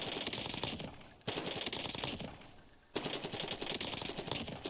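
Rapid automatic fire from a Krig C rifle in Warzone, three long bursts of tightly spaced shots separated by brief pauses, loud and close.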